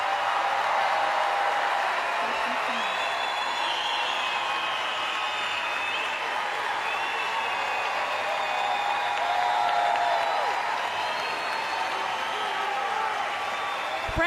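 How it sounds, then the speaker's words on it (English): Applause rolls steadily from the audience at a university graduation ceremony for 2025 bachelor's degree graduates, a dense crowd clapping heard at a moderate distance without pause. "Please join me for another round of applause."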